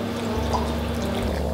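Vinegar, soy sauce and sugar pour steadily into a small dipping sauce for chicken breast, a soft continuous liquid stream heard close and fairly quiet.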